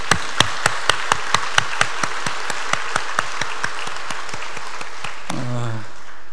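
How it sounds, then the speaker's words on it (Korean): A church congregation claps in strict unison, about twenty sharp claps at a brisk, even beat that gradually soften, followed by a brief voice. "박수하겠습니다."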